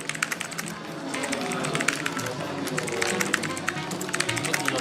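Rapid keyboard typing during a competitive typing race, a dense stream of quick clicks and taps running without pause under a busy background of voices or room noise.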